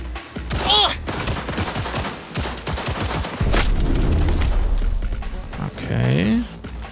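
Gunfire in Cyberpunk 2077: a loud, dense fusillade of game shots runs through most of the clip, with a few sharp cracks and brief snatches of other sound mixed in.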